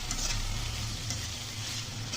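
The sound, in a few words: ash gourd cooking in a little oil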